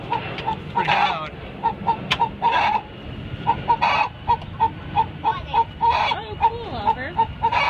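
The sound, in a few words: chicken clucking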